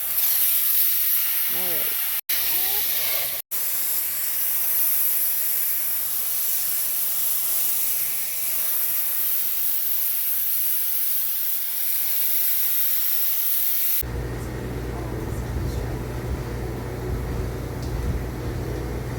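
A Bissell carpet shampooer working over carpet makes a steady, loud hissing spray-and-suction roar. A single spoken word comes early, and near the end the motor drops into a deeper, fuller drone.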